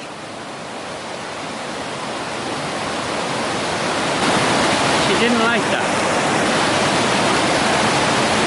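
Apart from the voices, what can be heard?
rushing creek water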